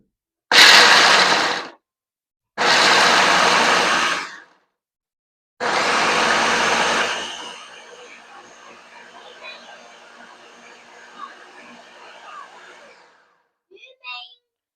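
A blender pulses peanuts into homemade peanut butter: three loud, close bursts of whirring motor and churning nuts, each a second or two long with short silences between, followed by a quieter rattling, settling spin that fades out.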